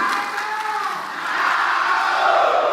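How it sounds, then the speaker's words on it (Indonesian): A debate audience for a South Sumatra governor election applauds the two deputy governor candidates, a dense continuous wash of clapping and murmuring crowd noise lasting a few seconds without a break. "kita berikan tepuk tangan untuk kedua Cawagup"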